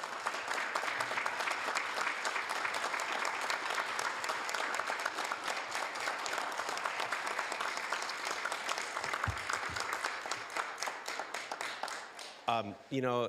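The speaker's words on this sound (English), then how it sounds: "let's give our veterans a big round of applause." Audience at a city council meeting in Hayward applauding veterans on Veterans Day, sustained loud clapping that carries on for several seconds before a voice begins speaking at the end.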